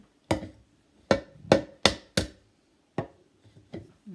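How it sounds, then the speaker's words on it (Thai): Eggs being cracked against a bowl while making pancakes at home, a series of sharp separate taps with short pauses between them, close and fairly loud, no speech over them. "ตอกไข่ใส่ในนี้"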